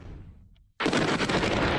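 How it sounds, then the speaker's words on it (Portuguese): Explosions from Israeli airstrikes on military headquarters in Damascus, Syria: after a fading rumble and near-silence, a sudden loud blast erupts into sustained heavy, crackling roar and rolling booms. "Explosões ecoam pelo horizonte sírio enquanto jatos israelenses bombardeiam quartéis generais militares em Damasco"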